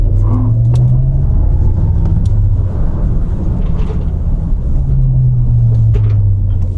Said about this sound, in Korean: 전기차는 소리가 안 나잖아요. 인공적으로 이 차 소리를 내주는데,